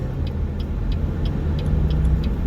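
A car drives along a city street, a steady close engine rumble and road hum with faint periodic ticks, even and continuous with no voices.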